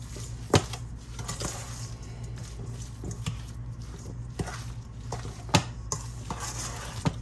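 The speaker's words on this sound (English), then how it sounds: "I'm just going to stir it around like so." A spoon stirs berry dumpling mixture in a pot, making close, repeated soft scrapes and squishes broken by a couple of sharper clinks against the metal.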